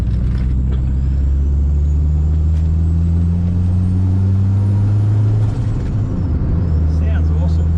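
A turbocharged Honda Civic with a D16 engine idles and revs nearby, a loud continuous low exhaust drone that rises and falls, while people talk over it.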